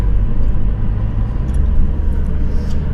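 A US Army truck engine rumbles steadily up close, a dense low-frequency drone holding at an even loudness for a few seconds with no voices over it.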